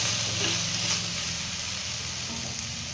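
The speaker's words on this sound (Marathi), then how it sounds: "10 ते 12 लसणाच्या पाकळ्या ऍड केलेत आपण यामध्ये। व्यवस्थित परतवून घेऊया।" Ten to twelve garlic cloves sizzle and fry in a pan, a steady, soft crackling hiss with light stirring, continuous and fairly quiet.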